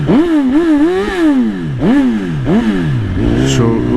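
Suzuki GSX-R1000R sportbike engine blipped repeatedly at close range, four sharp revs swooping up and falling back in quick succession, then settling into a steadier rising note, loud and without talk.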